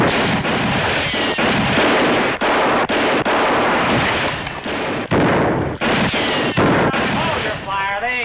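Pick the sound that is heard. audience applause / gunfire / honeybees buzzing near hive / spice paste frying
gunfire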